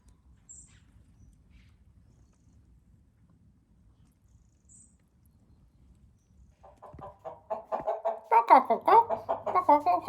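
Hens cluck in a dusty hen house, quiet at first and then rising into a busy, close burst of clucking during the last few seconds, with a person speaking alongside.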